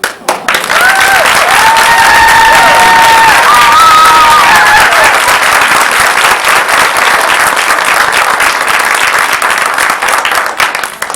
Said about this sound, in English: we had the applause on that one